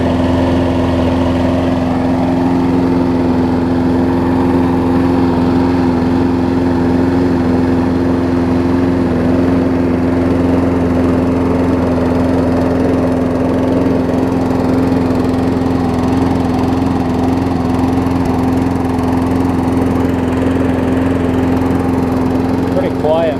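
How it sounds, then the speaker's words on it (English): John Deere JS360 walk-behind lawn mower with a Briggs & Stratton engine and a new carburetor, running steadily at a loud, even drone close by for the whole stretch. "Pretty quiet mower."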